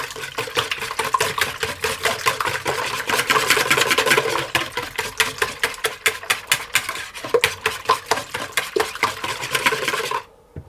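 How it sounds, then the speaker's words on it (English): Eggs whisked in a bowl for a Spanish tortilla, a fast steady clatter of whisk against the bowl that runs close and continuous for about ten seconds and then stops abruptly. "I'm just going to whisk those eggs to get them mixed together."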